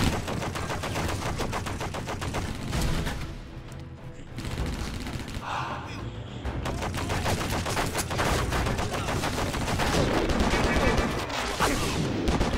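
Heavy machine gun and other gunfire in the shooter game Stranglehold, loud rapid bursts of automatic fire nearly continuous across the clip, with a brief lull in the middle.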